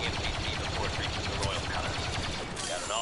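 Rapid, continuous blaster fire from a large open-line battle in the Star Wars Battlefront 2 beta, dense and steady throughout with overlapping shots and a voice talking over the din.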